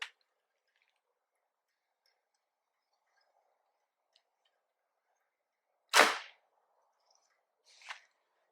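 A 350-grain arrow leaves a Hoyt RX-8 Ultra compound bow set to 80% let-off with a 30-inch draw, a single sharp loud snap after long quiet, followed by a fainter thud or tick a couple of seconds later.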